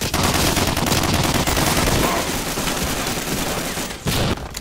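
Rapid, loud bursts of shotgun fire in Medal of Honor: Allied Assault multiplayer on the Algiers map, dense overlapping blasts packed close together with a short pause near the end.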